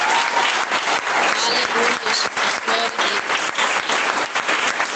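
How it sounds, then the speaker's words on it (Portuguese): A church congregation claps loudly and steadily in a dense, sustained round of applause, with voices calling out praise over the clapping. "dá uma salva de palmas para o Rei Jesus."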